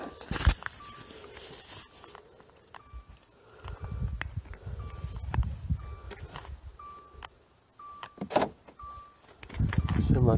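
A car being locked at night, with a repeating series of short electronic chirps and clicks from the lock and alarm, interspersed with thumps, under quiet talk and faint rustling.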